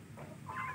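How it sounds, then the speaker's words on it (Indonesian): A young Shamo chicken, about three months old, on a farm gives a single short cluck at the very end, after a quiet stretch of background noise. "Ini ayam Samo, teman-teman."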